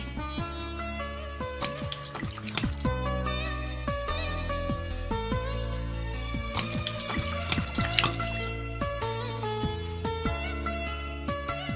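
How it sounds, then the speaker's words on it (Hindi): Hot water is poured in a steady continuous stream, splashing and trickling with a bright, busy texture throughout, close and unbroken with no talking. "ये है गर्म पानी।"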